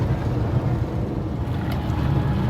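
An Austin Allegro from British Leyland drives along the road, its engine and road rumble forming a steady, fairly loud low drone with no talking.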